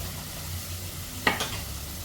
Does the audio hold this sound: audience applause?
no